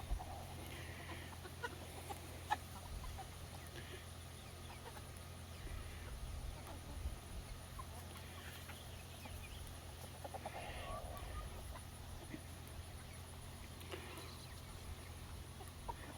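A backyard flock of chickens with several young roosters clucks softly and intermittently at a distance over steady outdoor background noise, with a few brief louder calls.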